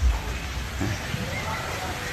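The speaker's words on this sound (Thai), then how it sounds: "ที่นี่นะครับฝนตกอีกแล้วนะครับ" Rain falls steadily on an artificial-turf football field in Ranong, Thailand, making an even, moderately loud outdoor hiss with a few low thumps.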